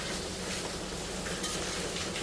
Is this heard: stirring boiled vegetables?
yes